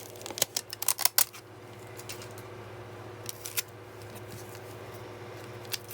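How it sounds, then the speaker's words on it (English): Pieces of regular tape torn off a roll at a craft table: a cluster of quick, sharp ripping and crinkling snaps early on, then a few isolated tears amid quiet room hum, close and soft, without speech. "just tear a couple pieces of regular tape to hold it down."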